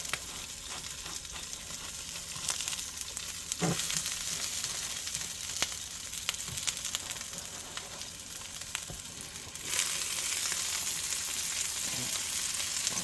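Burgers sizzle steadily on a hot griddle, a constant crackling hiss with occasional pops and scrapes, no talking.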